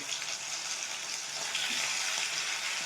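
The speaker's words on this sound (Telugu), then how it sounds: "ఇప్పుడు రొయ్యల ముక్కలు వేసుకున్నాను" Marinated prawn pieces fry in a pan with a dense, steady sizzle that holds evenly throughout, close and unbroken, with no talk.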